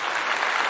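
A brief burst of hand clapping, steady and close, lasting under a second with no voices over it.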